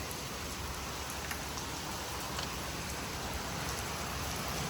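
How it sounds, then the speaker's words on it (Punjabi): Heavy rain pours down steadily, a dense, even hiss of drops drumming on surfaces with no break. "ਮੀਂਹ ਚੈੱਕ ਕਰੋ ਇੰਨੀਆਂ ਜ਼ੋਰਾਂ ਤੇ ਬਾਰਿਸ਼"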